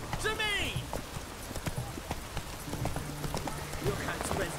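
Roach the horse gallops in The Witcher 3 video game, its hoofbeats soft and rhythmic beneath game music, with talk and a shout over the top.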